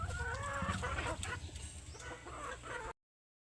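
Free-range chickens on a farm clucking steadily and fairly close for about three seconds, with rooster-like calls mixed into the flock noise and no talking.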